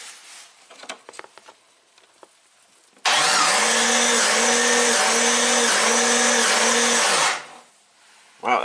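A Jeep 4.0L engine cranks during a compression test on cylinder five, a loud steady starter whir with a rhythmic pulsing beat from each compression stroke, lasting about four seconds after faint clicks and handling noises, then stopping.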